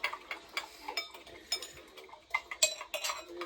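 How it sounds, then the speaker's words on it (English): A spoon stirs a drink in a glass, giving quick, close, light clinks and ticks in an irregular run. "You have to stir it just before you drink it"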